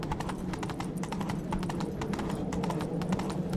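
Roach, Geralt's horse in The Witcher 3, gallops in a fast, steady clip-clop of hooves on the ground, loud and continuous throughout with a brief whinny-like edge and no talking.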